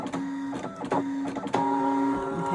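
A Brother ScanNCut cutting machine drawing with a foil quill gives off a steady motorised whir broken by several short mechanical clunks as the carriage shifts and starts again, close and fairly loud.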